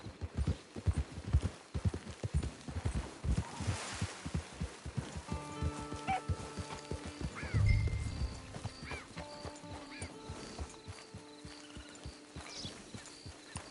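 Horse hooves clip-clop on the ground in the Red Dead Online video game, a steady trotting rhythm with a brief whinny partway through and some tonal game sounds layered over the latter half.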